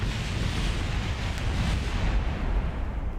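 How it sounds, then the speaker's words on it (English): A rocket explosion in the space flight game Kerbal Space Program gives a steady, heavy low rumble with a broad roar, sustained at the same level for the whole stretch with no pause. "Sick and tired of explosions, chat."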